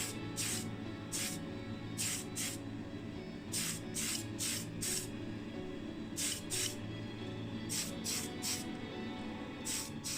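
Short bursts of Tamiya Fine white primer spray onto small die-cast model cars, several hissing sprays in pairs and threes over a constant background hum, fairly quiet.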